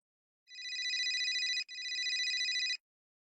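A telephone ringing with an electronic trill, two long rings back to back separated by a very brief gap, clear and close in an otherwise quiet room.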